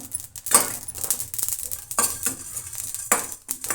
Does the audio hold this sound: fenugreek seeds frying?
yes